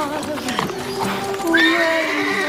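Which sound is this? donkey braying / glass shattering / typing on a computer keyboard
donkey braying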